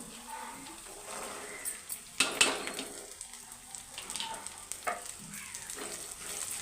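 Tender green broad beans (goruchikkudu) fry in oil in a pan with a gentle, steady sizzle, broken by sharp clinks and scrapes of a spoon against the cookware, especially around the middle.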